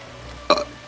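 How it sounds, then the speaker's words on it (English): A single short, loud belch erupts on its own against quiet background hum, lasting about a tenth of a second with a slightly rough, voiced tail. "You're just like a burping fool"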